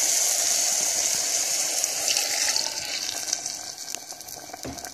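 Water gushes onto lentils in a pot while mango sambar is being made, a loud, close, steady rush that slowly thins and quiets toward the end, with no voices.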